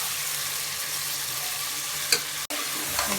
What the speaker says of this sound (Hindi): हमारा गोश्त कितने अच्छे तरीके से फ्राई हो रहा है